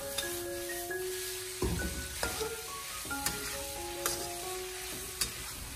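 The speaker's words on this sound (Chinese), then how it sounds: "然后再继续的将它大火进行翻炒，把蒜苗翻炒至成熟" Cucumber peel stir-fried with fatty pork belly and garlic sprouts in a wok over high heat, a steady loud sizzle with intermittent scraping and clinking of the spatula against the pan, no talking.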